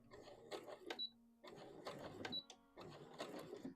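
A sewing machine runs in three short bursts while backstitching the collar of a Vogue V2000 wrap dress, each run a rapid mechanical whir with small clicks between, close and clear with no talking.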